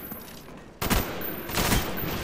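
Gunfire from the Black Ops 1 video game: after a quiet opening, a loud burst of shots erupts near the one-second mark and a second burst follows, both close and sharp over steady game ambience.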